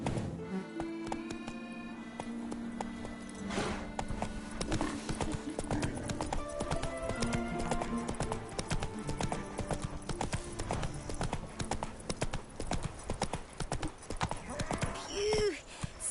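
Horse hooves gallop in the video game The Witcher 3: Wild Hunt (Blood and Wine DLC), a steady rapid clip-clop rhythm running throughout, with a whinny near the end and a voice speaking over it.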